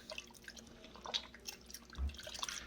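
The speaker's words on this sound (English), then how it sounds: "mix the starter in with the water" A hand mixes sourdough starter into water in a bowl while making jalapeño cheddar sourdough bread, making soft, irregular wet squelches, drips and splashes, quiet and close.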